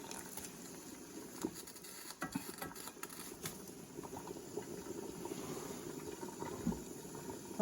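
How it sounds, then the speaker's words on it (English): Water at a rolling boil in a pot of wild greens on a stovetop, a steady soft bubbling patter with scattered louder pops, close and continuous. "roll boiling for about 5 minutes"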